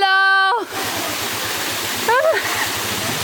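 A secret waterfall in the Philippines roars as a steady, broad rush of falling water, continuous and fairly close, with a couple of brief tonal chirps over it.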